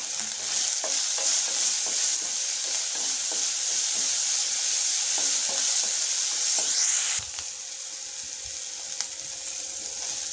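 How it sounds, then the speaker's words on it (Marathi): Garlic and chili pieces frying in oil for a green tomato thecha, a bright continuous sizzle with light stirring taps, close by, easing down slightly near the end. "आता आपले लसूण व मिरचीचे तुकडे परतून झालेले आहेत"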